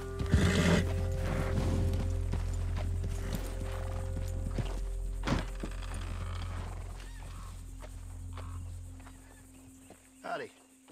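In Red Dead Redemption 2, a horse walks along with a steady clip-clop of hooves, close and clear over low ambient game sound and faint voices, fading near the end.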